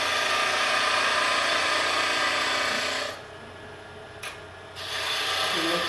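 A skew chisel used as a scraper on turning wood gives a loud, steady rasping scrape that cuts out briefly near the end, then resumes.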